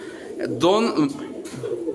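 A pigeon coos with a rounded, warbling call that swells in the middle, heard over a soft background murmur.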